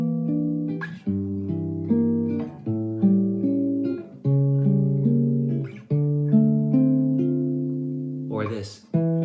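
Jazz guitar moves through a chord progression over a descending bass line, each chord struck and left to ring, played close and clean at a relaxed pace with no voices.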